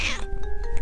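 A pet cat named Shalulu meows once at the start, a loud close cry, followed by a low steady tone that fits soft purring underneath.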